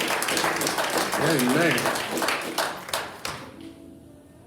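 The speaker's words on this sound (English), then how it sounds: "Can we give him a round of applause, a thank you, a welcome?" A church congregation breaks into a round of applause, dense clapping from many hands filling the room and gradually thinning out, with voices calling out and a spoken amen over it.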